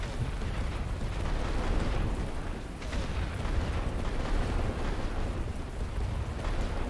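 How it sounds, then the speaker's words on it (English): A continuous heavy rumble of artillery bombardment in the World War One strategy game The Great War: Western Front, a dense, steady roar of distant explosions with no clear pauses. "running outside the trenches while you're being hit by artillery is a very smart idea"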